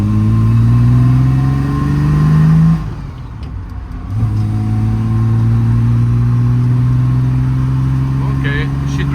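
A Triumph TR6 accelerates on a road test drive, its engine note climbing through the gears, dropping during a shift and then pulling steadily again, loud and close with a voice talking over it.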